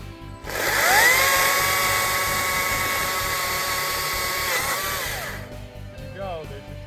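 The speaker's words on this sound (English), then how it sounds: "Are you using your mini chainsaw?" A small mini chainsaw whines steadily at high pitch while cutting firewood, its engine note rising and holding for several seconds close by before dropping off, with a voice heard faintly nearby.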